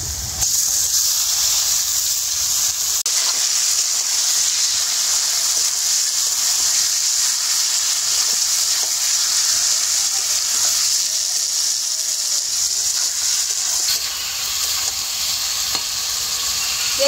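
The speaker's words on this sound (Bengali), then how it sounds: "যে মাংসটা ম্যারিনেট করে রেখেছিলাম সেই মাংসটা এবারে দিয়ে দেবো।" Marinated chicken pieces hitting a pan of frying onions with garlic for a Bengali mustard chicken, a steady loud sizzle and hiss with occasional stirring scrapes, continuous throughout without talk.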